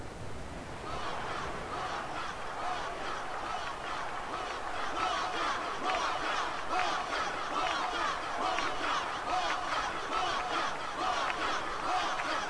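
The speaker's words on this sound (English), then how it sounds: "I heard you cheering." A large video game crowd cheers and chants throughout a blitzball match in Final Fantasy X, a dense, sustained roar of many voices with no clear breaks.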